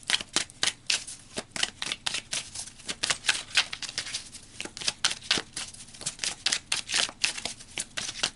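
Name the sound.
tarot cards being shuffled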